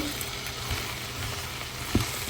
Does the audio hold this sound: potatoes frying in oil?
yes